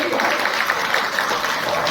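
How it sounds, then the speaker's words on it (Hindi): A crowd claps loudly and steadily for about two seconds, a dense wash of applause with no break. "जोरदार तालियां"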